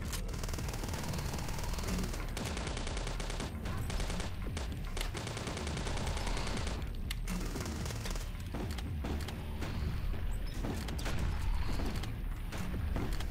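Rapid, heavy hand cannon gunfire from the retro first-person shooter HROT, loud and continuous bursts of shots with booming impacts filling the whole stretch, no voices.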